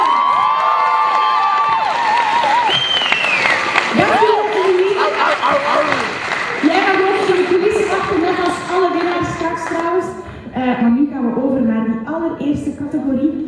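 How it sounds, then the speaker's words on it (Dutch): Audience cheering and clapping for a first-prize winner at a youth arts award ceremony, a steady crowd roar with whoops and shouts that runs the whole time, with voices mixed in. "Een applaus voor Emily Nederland!"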